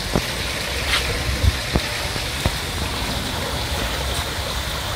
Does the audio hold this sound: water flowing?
yes